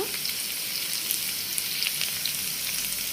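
Liver frying in oil with salt, turmeric and spices in a pan, giving a steady, close sizzle that crackles and hisses continuously without pause.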